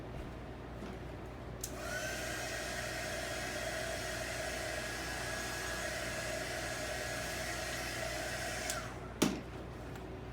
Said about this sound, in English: let me hit this with my heat gun